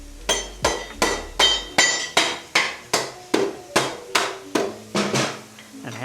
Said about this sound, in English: And hammer through.